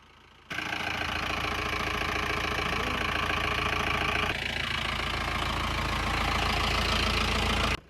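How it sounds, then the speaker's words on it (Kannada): A Jeep Gypsy engine kicks in abruptly and runs at a steady, loud idle with a rough, knocking mechanical rumble close by, holding level for several seconds before cutting off sharply. "ಇವತ್ತ ಜಿಪ್ಸಿ ಹೊಡಿನತ್ತ ಟ್ರೈ ಮಾಡೋನತ್ತ"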